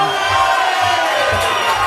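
A congregation at a Sabbath service cheers and whoops as a teacher is introduced, a dense, loud wash of crowd noise filling the short stretch with no break.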